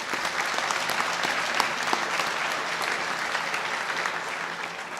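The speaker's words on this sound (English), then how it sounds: "So one more round of applause." An audience at a state honors ceremony in the Michigan Capitol claps steadily, a dense, even wash of applause from a fairly large crowd that sustains throughout.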